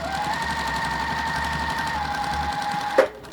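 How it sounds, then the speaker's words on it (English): A sewing machine stitches quilt pieces corner to corner in a steady, close, humming run that stops abruptly with a brief clunk near the end. "now we're going to just repeat the exact same thing, going here and sewing corner to corner"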